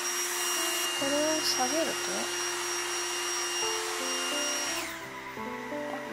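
A Trifo Lucy robot vacuum cleaner running at maximum suction gives a steady close whirring hum with a high tonal whine, shifting pitch slightly partway through, while someone speaks over it.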